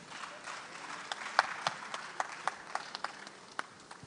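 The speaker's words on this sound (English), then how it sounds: "A round of applause for her" A conference hall audience at a regional maritime women's conference in Africa claps for a presenter, scattered distinct hand claps standing out over a soft crowd background, fairly light and uneven rather than a full ovation.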